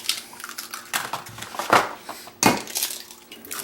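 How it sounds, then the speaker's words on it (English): Eggs cracked one after another into a bowl for spaetzle batter, giving a quick run of sharp shell taps and wet drops, close and fairly loud with no talk. "just crack all your eggs into a bowl"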